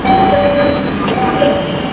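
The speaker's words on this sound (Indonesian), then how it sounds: "LRT yang saya naiki tiba di stasiun Ciliwung" An LRT Jabodebek light rail train arrives at Ciliwung station, a loud steady rumble with a two-tone chime ringing over it.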